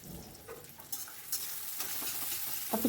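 Onion frying over high flame in a pan with turmeric and chili powder, stirred with scraping strokes over a steady close sizzle, short and fairly quiet, with no talking.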